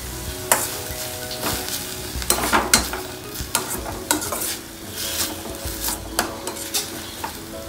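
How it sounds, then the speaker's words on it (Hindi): Lightly fried vegetables tossed with soy sauce in a pan for hot and sour soup, loud repeated scraping and clanking strokes of a spoon over a constant sizzle, no talking. "अच्छे से मिक्स करते हैं"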